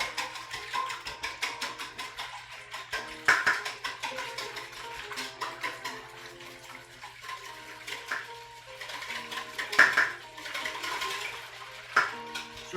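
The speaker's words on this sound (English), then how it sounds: "Get those yolks in there. And we're just going to whisk them up" Eggs and salt whisked briskly in a bowl for popovers, a steady run of quick metallic ticking strokes with a faint hum underneath and a few louder clinks, no talking.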